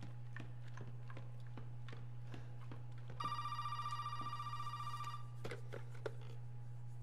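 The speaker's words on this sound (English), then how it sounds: "oh, phone's ringing." A telephone rings in the Resident Evil 7 video game: one electronic ringing burst of about two seconds midway through, over a steady low hum and faint clicks.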